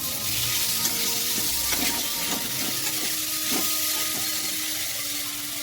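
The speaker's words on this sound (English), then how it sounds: "Now let us add the minced meat. And mix well." Minced meat (keema) sizzles steadily in a hot pan, a dense continuous frying hiss with a few soft scraping knocks as it is stirred and mixed, close and alone with no talk.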